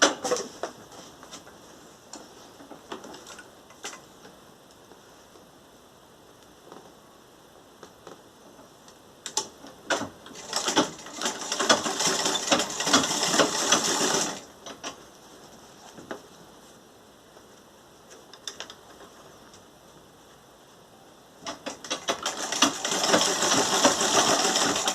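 Sewing machine stitching a fabric door draft protector: rapid mechanical ticking that runs in several extended bursts, loudest around the middle and at the end, with quieter pauses and small handling sounds between runs.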